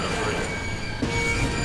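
Train rushing past in an anime scene, a loud, steady rumbling roar with a brief metallic clatter in the middle.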